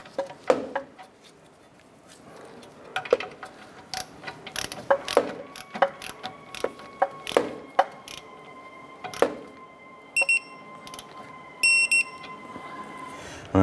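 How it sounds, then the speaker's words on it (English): Torque wrench clicking and ratcheting while tightening the outer tie rod nut on a 2008-2012 Honda Accord, a series of sharp close metallic clicks and ratchet bursts with a few quick rapid clicks near the end. "I'm gonna go ahead and torque our outer tie rod and nut to 40 foot-pounds."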